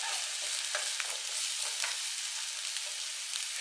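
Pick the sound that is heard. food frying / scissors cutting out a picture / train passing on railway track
food frying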